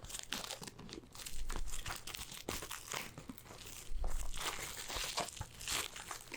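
Plastic wrap is crinkled and torn off Blu-ray movie cases close up, with bursts of crisp crackling and tearing alongside soft handling thumps.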